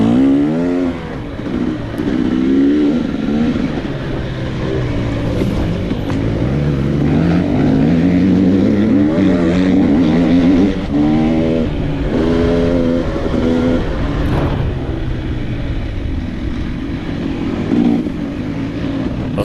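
A 2022 KTM 300 XC-W two-stroke dirt bike races a hare scramble in C-class, its engine buzzing loud and close throughout, rising and falling in pitch as the rider works the throttle through wide open sections.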